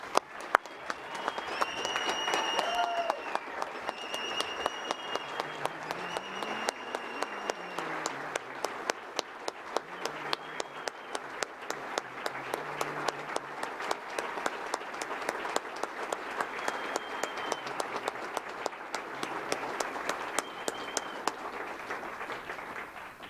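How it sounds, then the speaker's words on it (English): A sustained round of audience clapping at the 2018 CSFD awards ceremony greets a lifetime achievement award winner, an even, continuous patter lasting over twenty seconds with a few sharp nearby claps and brief faint voices. "how about another big round of applause for all of our award winners tonight"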